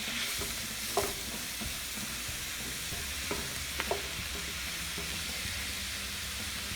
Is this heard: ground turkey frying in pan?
yes